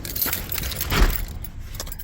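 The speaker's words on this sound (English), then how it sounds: "We're going to put the key in." Keys on a metal ring jangle and clink close by inside a Mercedes-Benz as a key is slid into the ignition, with a brief louder knock near the middle.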